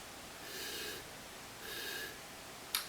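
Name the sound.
deep sniffs smelling wine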